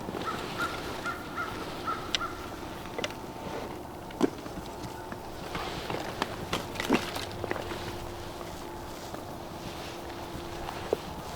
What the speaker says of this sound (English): There's crows all over here